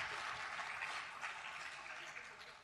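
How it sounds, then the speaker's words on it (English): A live audience at an evening event with two legendary cricketers gives a steady round of applause, a dense wash of clapping that runs the whole time at moderate distance and fades slightly toward the end, with no speech over it. "Let's give a round of applause."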